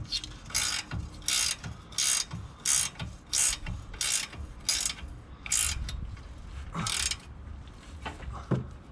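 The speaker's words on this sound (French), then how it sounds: "J'ai ma clé à cliquer qui déconne." A faulty Facom ratchet wrench, one that slips about one time in ten, clicks in about ten short, close bursts at a steady pace while it works on the driveshaft boot of a VW Golf 5 1.9 TDI.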